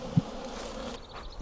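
Honeybees buzz around a hive in a close, steady drone, with individual bees passing near and a brief louder bump early on.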